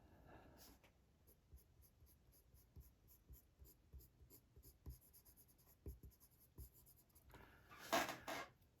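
Prismacolor colored pencils scratch across paper in a steady run of soft, close strokes, with a louder rustle of handling near the end.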